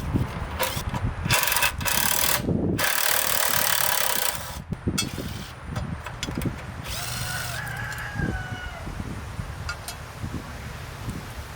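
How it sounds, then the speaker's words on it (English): Bolts being removed from a tiller's engine cover with a power tool, several loud, close whirring bursts in the first seconds, followed by softer metallic scraping and clinks as parts are handled. "let's go ahead and remove these bolts, take the cover off"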